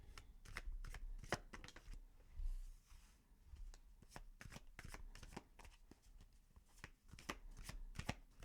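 A deck of tarot cards is shuffled close by, with crisp riffling and rapid tapping snaps in irregular bursts in an otherwise quiet room.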